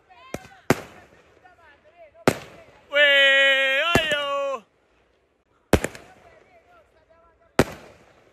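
Loud fireworks explode on a beach in sharp separate cracks spaced a second or more apart, with people talking between them and a brief loud tonal whine partway through.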